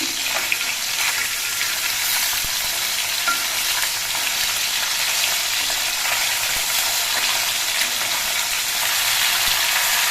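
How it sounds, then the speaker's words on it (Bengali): Parshe fish sizzling steadily in hot oil in a pan, cooked with fennel seed; a dense, loud, continuous frying hiss that lasts the whole time with no pauses and no voices. "মাছগুলো এক পিস কিছুক্ষণ ভাজা হয়ে গেছে এবার মাছগুলো আমি উল্টে ধরছি"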